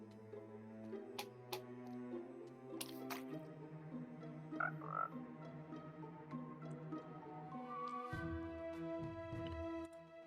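Frog croaks from Minecraft 1.19 gameplay, a few short burbling calls sounding over layered background game music and ambient tones, with no voices.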